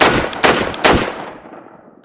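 Shots from an IWI Carmel 5.56 rifle, three loud close reports in quick succession, each trailing off into a long fading echo outdoors.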